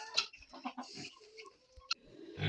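Chickens cluck softly in a quiet yard, with scattered short calls and a sharp squawk or two amid faint background noises.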